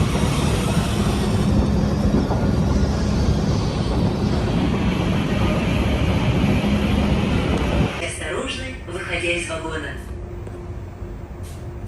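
A Moscow metro train in a station: a loud, steady rumble of the train running for several seconds, then fading into brighter rattling and clacking as it slows, with voices faintly underneath.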